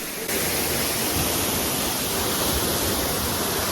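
Powerscourt Waterfall in Ireland roars as a dense, unbroken wash of falling water, loud and steady after a brief quieter start, with no voices over it.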